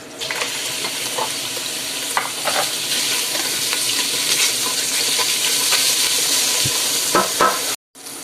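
A second batch of beef pieces for stew is browned in a pan. A loud, continuous sizzle carries scattered spatters and occasional utensil taps, close up, and cuts off abruptly near the end.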